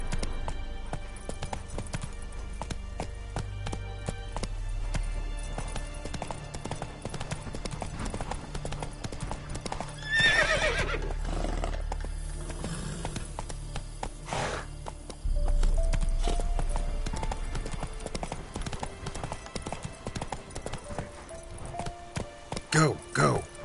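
Roach the horse gallops in The Witcher 3, with steady rhythmic hoofbeats and an occasional whinny running throughout under game music, while a man urges the horse on.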